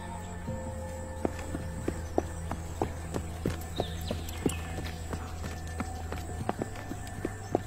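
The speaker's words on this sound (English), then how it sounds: "Oh look, it's a rare white horse." Steady clip-clop of horse hooves walking in Red Dead Redemption 2, a regular moderate rhythm of close, fairly crisp hoof strikes over a low ambient background, with no talking.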